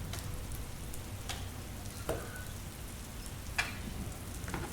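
Steady rain pours down outdoors beside a wood-fired oven during a slow cook of beef rendang, a soft continuous hiss with a few sharper drops or clinks now and then.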